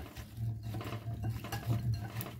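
Seasoned orata fish, salted and peppered, is stirred in a bowl with soft, close scraping and shuffling sounds, faint and continuous, with no talk.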